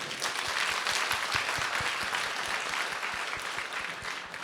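Sustained applause from a church congregation at a family Lent retreat in Ireland, dense clapping filling the room steadily for several seconds with no talk over it.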